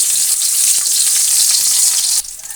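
Ginger, garlic and onion sautéing in hot oil at the start of a squid dish, a loud, steady sizzle close by that drops suddenly near the end, with no talking.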